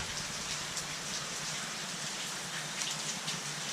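Rain pours continuously over a rural Lao setting of rice fields among mountains, a dense, even hiss of drops on surfaces with faint low rumble, no talking heard.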